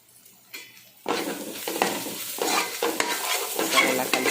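A spoon scrapes and stirs through a sizzling fish and tamarind curry in a pan, with loud, close bursts of stirring over constant frying hiss and no talking.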